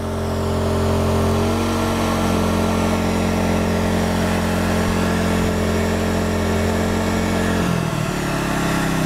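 An Endress 2300i inverter generator runs in eco mode near idle, a steady close engine drone with a steady hum, dipping in pitch near the end.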